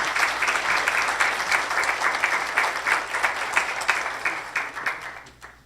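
An audience applauds steadily to welcome a speaker, dense, even clapping from a large room that holds for several seconds and then tapers off, no voices over it.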